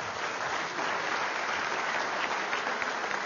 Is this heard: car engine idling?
no